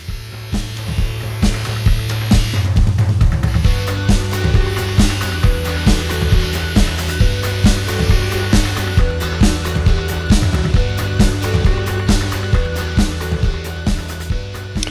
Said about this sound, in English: my dad is using the buffing wheel to polish the hubs